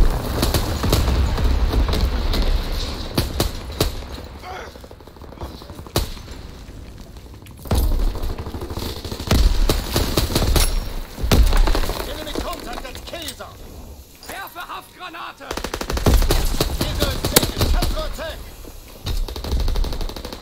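Gunfire in the World War II shooter game Call of Duty WW2, with sharp shots and bursts repeating through a busy match over a steady bed of game noise while a player talks.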